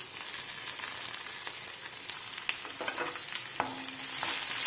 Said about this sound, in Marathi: मिरची तुपात भाजून घ्यायचं